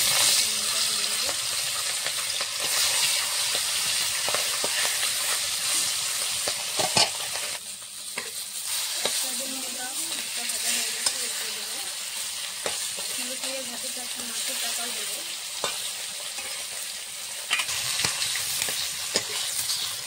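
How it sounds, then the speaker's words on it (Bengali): A fish head fries in mustard oil in a wok with a constant loud sizzle. Scattered clinks and scraping stir noises break through now and then. "কড়াইতে আমি মাছের মুড়ো ভাজার জন্য সর্ষের তেল দিয়ে দিয়েছি।"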